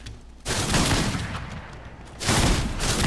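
Bursts of rapid gunfire in a video game, two loud dense volleys separated by a short lull, close and sharp with no talk over them.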